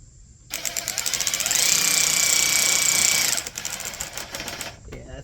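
A power tool whirs steadily for about three seconds while fastening a turn signal lens onto a 2001 Toyota Solara, close and fairly loud, with a high whine that then cuts off into quieter handling noise.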